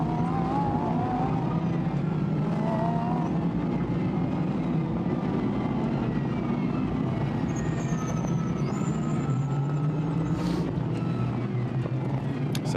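Lamborghini Super Trofeo race cars starting a race at Silverstone: a dense, loud, continuous roar of many engines droning together, with whining tones sliding up and down throughout.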